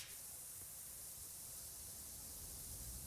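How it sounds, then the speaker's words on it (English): Pressure washer with a wide nozzle spraying in PowerWash Simulator 2, a continuous broad hissing spray that starts abruptly and holds at an even, loud level throughout. "The wider spray is better at it in no time."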